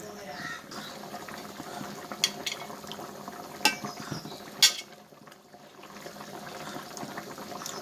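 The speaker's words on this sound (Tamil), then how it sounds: "நகர மீன் குழம்பு கொதிச்சிட்ருக்கு" Red mullet fish curry (kuzhambu) boiling in a pot gives a steady soft bubbling simmer, with a few sharp clinks of a utensil against the pot partway through.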